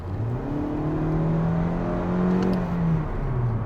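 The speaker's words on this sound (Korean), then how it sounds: "풀악셀을 했을 때" A 2022 Hyundai Avante's 1.6L naturally aspirated engine revs hard and steadily, its droning pitch climbing under full throttle for several seconds, loud and close with no talking.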